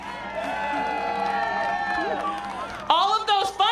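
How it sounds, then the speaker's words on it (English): A large outdoor crowd at a Relay For Life closing ceremony in Tacoma cheers, a steady wash of voices and whoops that swells into louder shouts and whistles near the end. "can you guys give a cheer for all of the fun people in the crowd?"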